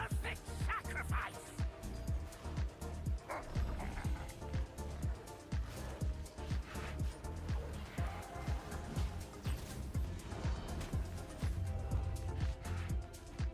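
Dogs barking and yipping in the video game Pantheon: Rise of the Fallen, a steady run of short barks and whimpers set against dense game ambience and other effects, with a voice talking over parts of it.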